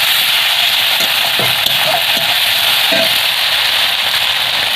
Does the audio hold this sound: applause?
no